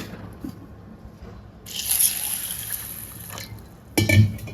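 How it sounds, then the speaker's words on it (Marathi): Moong and chana dal being rinsed in water: soft drips and sloshing, a brief louder splash and swirl in the middle, then a short clattery splash near the end, fairly close with no talk. "तर आपण ही डाळ जी आहे धुवून घेऊया"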